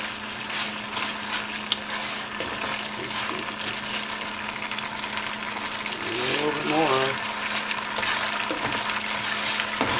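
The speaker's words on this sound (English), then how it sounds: "Keep stirring it." A sauce thickened with cornstarch water bubbles and sizzles in a pan during Chinese-style orange chicken cooking, with a steady frying hiss, a few stirring scrapes and a brief rising tone near the middle.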